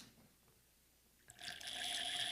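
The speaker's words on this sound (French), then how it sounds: "Oh, une petite bulle et un bruit de pétillement ici." Wine pouring through a Decantus aerator begins after a quiet pause as a bright, steady fizzing and bubbling hiss that holds to the end.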